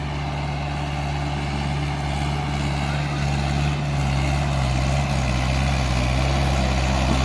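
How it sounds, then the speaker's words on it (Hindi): A Mahindra 585 XP Plus tractor engine labours steadily in low gear while climbing a slope, giving a loud, continuous low diesel drone that holds without a break. "तो अभी महिंद्रा 585 है भाई, ये चढ़ेगा।"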